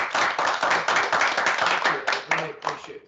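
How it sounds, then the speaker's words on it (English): An audience applauds a guest speaker after a university talk, with dense steady clapping close by that thins slightly toward the end, and a few voices briefly heard over it. "A round of applause for Bennett."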